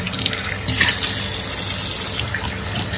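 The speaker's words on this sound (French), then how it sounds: "Je vais mettre de l'eau." Water poured from a tap into a mug cake mix, a loud close gushing stream that swells after a brief trickle and runs steadily, no talk.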